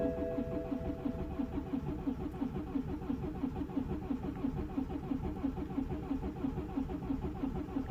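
BMW 118d E82 diesel engine cranking over and over without firing, a steady rhythmic churn of the starter close up, from a car that cuts out under load and won't start.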